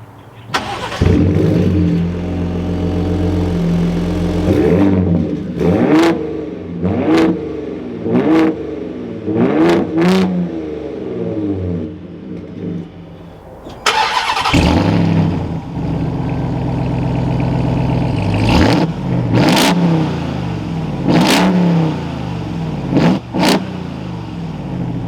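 Ford Raptor truck exhaust in its loudest Baja mode, revved hard in a run of sharp, loud blips with a steady rumbling idle between them. A second burst of quick revs follows after a short pause, with no talking.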